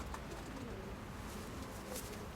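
Steel-coloured white-tailed pigeon cooing softly in a loft, a few low murmuring coos over a steady background hum.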